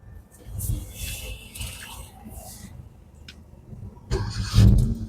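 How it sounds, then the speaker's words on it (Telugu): A 2012 Hyundai Verna 1.6 SX petrol engine cranks briefly and catches near the end, rising into a low, rumbling idle, preceded by some background noise and scattered voices. "సింగిల్ సెల్ఫ్లో స్టార్ట్ అయింది జస్ట్ హాఫ్ రౌండ్కి స్టార్ట్ అయింది"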